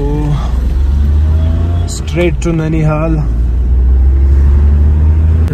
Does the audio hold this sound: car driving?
yes